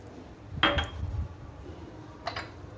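Two medium onions drop into a cooking pot for a homemade tomato sauce, giving two brief, close clattering knocks a couple of seconds apart over a quiet room.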